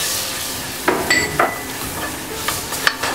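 A roux of butter and flour cooks in a pan, with a soft steady sizzle under scattered clinks and scrapes as a utensil stirs against the pan, close and with no one talking.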